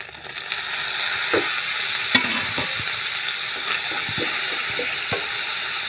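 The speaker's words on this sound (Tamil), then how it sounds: "தக்காளி நல்லா வதங்கணும். வதங்க வரைக்கும் வதக்குங்க." Tomatoes and ginger garlic paste are stirred and sautéed in hot oil for a chicken curry, giving a steady sizzle with scattered clinks and scrapes from a spoon against the pan. There is no talking.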